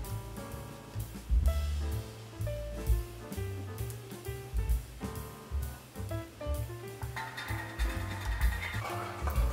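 Upbeat electronic video game music plays steadily from a console through a portable monitor's speakers, with punchy bass notes and bright melodic lines, growing busier and brighter near the end.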